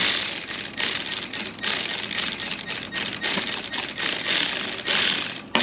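Ratchet wrench tightening a fitting on a car brake line during an ABS delete with a line lock, giving rapid, close clicking in quick bursts throughout.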